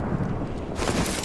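A frag grenade going off in Apex Legends, a short muffled boom that swells into a rumbling blast, brief and moderately loud.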